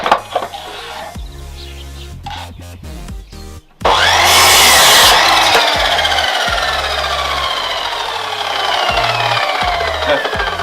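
A wooden paling board is cut with a hand saw while building bedroom shelves: choppy, intermittent strokes at first, then a loud, sustained grinding cut that gradually eases.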